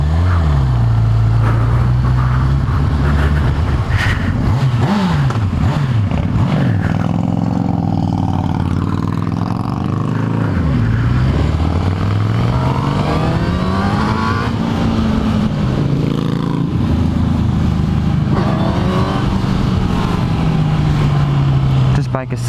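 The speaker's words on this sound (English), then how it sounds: "hopefully it can pick up the sound of the engine just a little bit better" A 2018 Honda CB1000R motorcycle engine runs loud and close throughout a ride, its pitch climbing and dropping as the rider accelerates and shifts, with wind rush underneath.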